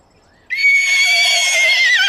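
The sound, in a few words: horse neighing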